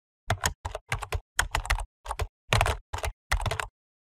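Close, crisp computer keyboard keystrokes in a few quick clusters as an email address is typed, with no talking.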